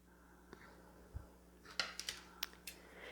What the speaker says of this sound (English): So I just have a pair of fabric scissors.